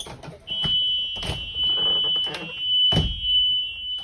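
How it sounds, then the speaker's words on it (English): A school bus emergency exit alarm sounds a steady, piercing electronic tone continuously during a pre-trip inspection, with a few dull thumps and knocks underneath it. "The alarm is sounding."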